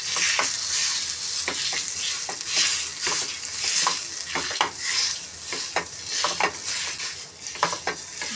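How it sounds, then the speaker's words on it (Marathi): Dates are roasting in a pan while being stirred for panchakhadya modak, giving a bright continuous sizzle with repeated scraping strokes of a spoon against the pan, close and fairly loud, with no voices. "खजूर आपल्याला हा मस्त छानपैकी याच्यामध्ये भाजून घ्यायचं आहे"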